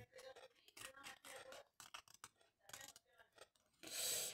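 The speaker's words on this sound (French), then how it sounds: "Donc je vais le découper en deux." Scissors snip through paper to cut it in two, a quiet close series of short crisp cuts and rustles, ending with a louder scrape.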